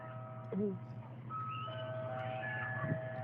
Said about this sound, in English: Locals would describe the chime of an ice cream truck